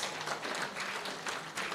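Audience applause at an Eastern Cape school rationalisation programme meeting: a brief, moderately distant burst of dense clapping in a large room, steady throughout with slight swells.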